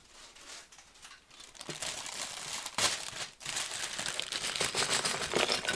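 Loud, close crinkling and rustling of plastic bags, continuous and busy, swelling and dipping over several seconds.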